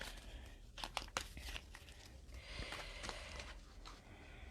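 A deck of tarot cards is shuffled by hand, giving soft irregular riffling, crinkling and snapping sounds up close, with no speech.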